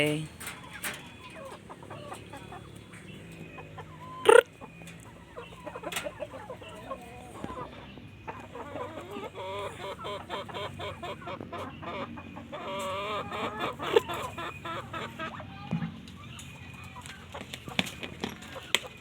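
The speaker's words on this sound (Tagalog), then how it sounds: "Nandito na yung ating mga bibe." A busy mix of Muscovy duck calls, clucks and chatter throughout, with occasional sharp knocks and a voice speaking briefly among the birds.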